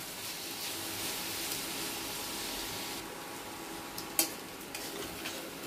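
Noodles and vegetables stir-fry in a pan, a steady close hiss of sizzling with a few scraping stirs and one sharp metallic clink near the end.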